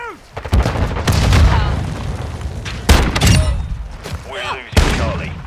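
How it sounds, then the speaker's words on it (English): Stun grenade blast in Call of Duty Modern Warfare 2 during a Domination match on Shipment, heard as several sharp booming bursts amid loud gunfire and game voice callouts. "Stun grenade out!"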